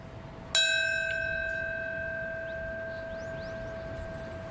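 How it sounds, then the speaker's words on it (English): A single bell strike at a 9/11 memorial ceremony in New York, one clear ringing tone with long sustained overtones that slowly fade under a quiet outdoor hush, with faint distant bird calls. "Then a bell, marking the minute the first plane struck the World Trade Center."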